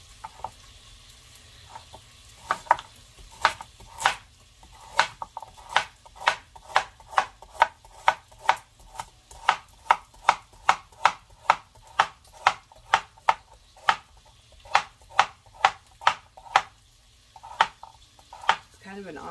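A knife chops carrot, onion and celery on a board for garden vegetable soup, about thirty crisp, close strokes in a steady, slightly uneven rhythm with short pauses between runs, and no talking.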